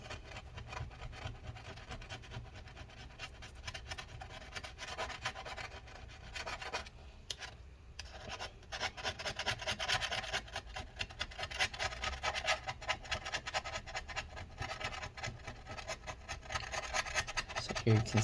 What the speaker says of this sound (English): Here you can see actually the foamy stuff is coming separate from the adhesive itself on this as I scrape it.